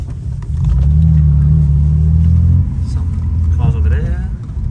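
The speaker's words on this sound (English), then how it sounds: "It sounds pretty nice, got custom exhaust." A car fitted with a custom exhaust rumbles loudly at a car meet, a deep steady revving note that holds for about two seconds and then drops back, with a voice briefly heard near the end.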